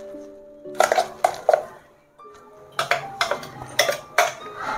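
Masala paste scraped out of a steel mixer jar onto a plate, giving short clinking metallic scrapes and taps in two bursts, close and fairly loud, with a faint tonal hum underneath.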